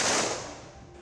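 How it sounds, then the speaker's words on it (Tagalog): A single loud ceremonial gunshot from a 21 gun salute at a Philippine Independence Day wreath-laying ceremony at Plaza 15 Martires, cracking sharply then fading into a broad echoing tail. "sinundan inikan wreath laying ceremony as in 21 gun salute"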